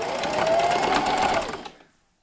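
A sewing machine runs a continuous straight stitch on a quilted table runner made of 2½-inch fabric strips, starting with a backstitch; a steady, close motor whir with a rapid needle patter lasts about 1.7 seconds, then stops.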